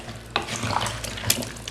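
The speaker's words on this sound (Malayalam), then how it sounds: "ഇത് നന്നായിട്ട് മിക്സ് ചെയ്യുക." Spoon stirring a watery sambar mixture in a pressure cooker, with wet scraping and sloshing and a couple of sharper clinks against the pot, close and fairly loud, no voices.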